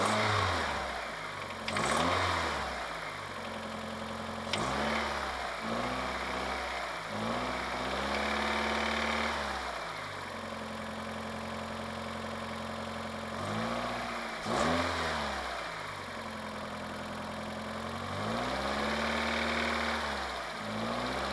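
A Mitsubishi Shogun Pinin's 2.0 GDI 4G94 petrol engine runs after its EGR and intake cleaning, idling steadily up close and revving up several times, with the pitch rising and falling in smooth sweeps.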